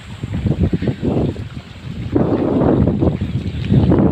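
Strong northeast monsoon amihan wind at sea roars and buffets the microphone in heavy low gusts, with choppy water and boat noise mixed in, loud and constant throughout.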